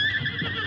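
A horse neighs as a sound effect in a 1947 Lone Ranger radio drama: one short, close, high whinny lasting under a second, heard on its own.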